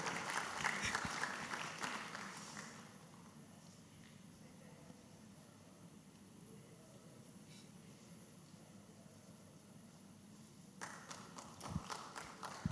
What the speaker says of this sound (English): A round of applause as she makes her way here